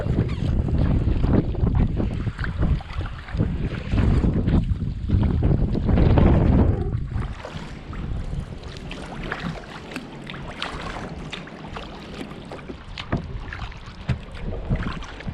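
Loud wind buffeting the microphone during a kayak paddle on Slocum Creek in Havelock, North Carolina, a constant rough roar that swells heavier in the first seven seconds and then eases slightly, with no talking.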